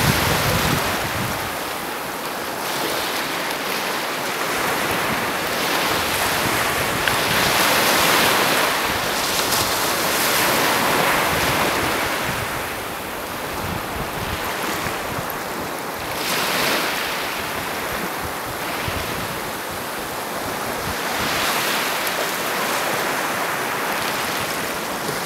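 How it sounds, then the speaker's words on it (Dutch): Sea waves wash steadily onto the beach at Ameland, a continuous loud roar of surf mixed with wind buffeting the microphone, with no speech. "ik hoor in ieder geval heel lichtjes de zee"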